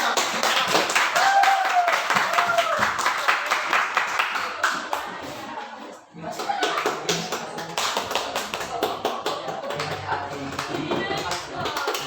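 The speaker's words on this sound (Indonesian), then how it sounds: "Tepuk tangan dulu buat Aco." Classroom of students clapping for a classmate, many uneven hand claps close by, fading briefly halfway and then picking up again, with voices talking over the clapping.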